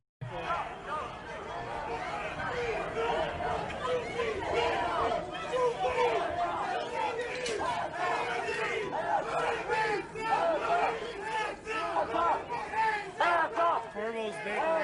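A crowd of protesters outside Corbo's Bakery in Cleveland shouts and chants, a dense mass of raised voices with yells rising over the din, continuous and fairly close throughout.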